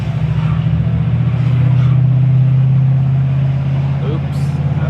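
A truck engine revs loud and close through an oversized exhaust tip, a steady deep rumble swelling slightly midway, with a voice talking over it.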